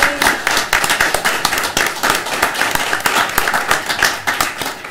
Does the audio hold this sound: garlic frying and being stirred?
no